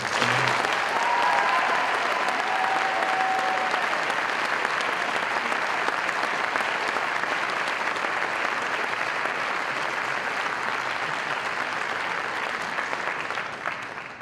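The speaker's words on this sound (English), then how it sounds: "Please give a round of applause to Danny Geis for his accomplishments." Sustained applause from an awards night audience fills the room steadily, loud and even, with no speech over it and a slight fade near the end.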